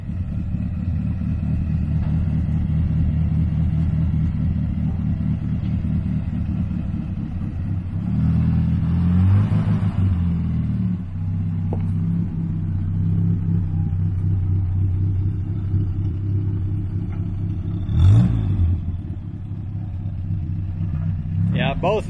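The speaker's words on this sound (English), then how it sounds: "we'll go ahead and fire this thing up once and run it" A 1953 Willys Jeep engine with original hard top runs at a steady low, throbbing idle that holds through the whole stretch, with a brief swell partway through.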